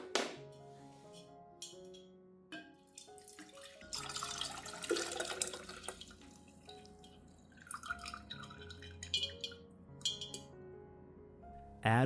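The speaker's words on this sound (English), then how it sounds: "I'll filter out the residue, keeping only the clear liquid." Steeped liquid for orchid care is filtered and the clear portion poured off, giving close trickling and dripping with light clinks of glass or containers, intermittent and quiet.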